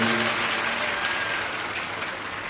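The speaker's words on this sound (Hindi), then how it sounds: "एक बार यजमान परिवार के लिए जोरदार ताली बजाकर स्वागत वंदन अभिनंदन" Dense, loud applause from a large audience seated at a Shiv Mahapuran religious discourse, a sustained wash of clapping that fades slightly toward the end.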